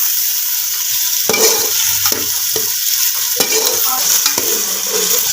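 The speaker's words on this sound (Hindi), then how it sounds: "साथ ही हम इसमें चिकन ऐड कर देंगे, इसको भी अच्छे से ब्राउन कर लेंगे प्याज का कलर में।" Chicken browns with onions and garlic paste in hot ghee, a steady loud sizzle with repeated scraping stirs of a spoon against the pan.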